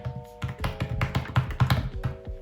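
Fingers tap out quick, uneven bursts on a computer keyboard during a study session, the keystrokes close and crisp over a faint steady hum.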